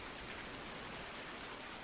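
Steady rain falls in the video game Farming Simulator 19, a faint, even, continuous hiss with no other sounds.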